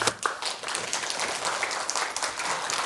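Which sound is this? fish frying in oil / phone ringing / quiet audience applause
quiet audience applause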